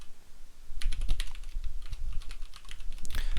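Rapid keystrokes on a computer keyboard while entering code, a steady, close clatter of overlapping clicks at a brisk irregular rhythm, with no talking.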